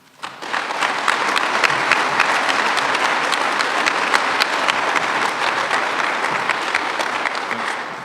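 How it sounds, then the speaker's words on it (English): A sustained round of applause from an audience at a public safety training facility grand opening, honoring firefighters and law enforcement; dense, steady clapping that swells quickly and holds at a loud, even level throughout. "ask our firefighters and law enforcement to give your commissioners, your college, and your community a round of applause"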